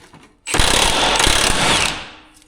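An impact power tool loosens 24 mm cradle bolts on a 2010-2015 Camaro: one loud, close, buzzing burst of about a second and a half, starting abruptly and then winding down.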